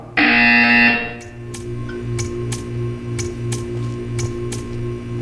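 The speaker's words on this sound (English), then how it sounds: "When you hear the buzzer, stare at the art." A loud harsh electronic buzzer in the video game Portal 2 blares for about a second, then stops, leaving a low pulsing hum with faint periodic clicks.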